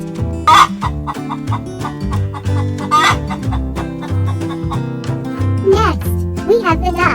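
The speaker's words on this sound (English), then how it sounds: "Here comes the chicken. The chicken says, "Cluck."" A cartoonish chicken sound from a children's farm-animal lesson, with repeated short clucks over bouncy background music and some spoken narration.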